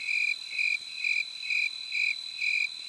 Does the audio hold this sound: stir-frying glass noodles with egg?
no